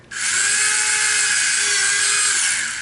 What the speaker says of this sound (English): And just take my little drill.